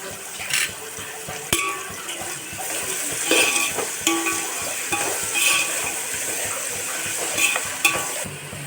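Sliced onions with salt and bay leaf frying in a pan for chicken biryani, a continuous close sizzle broken by scraping stirs and occasional sharp clinks of a spoon against the metal pan.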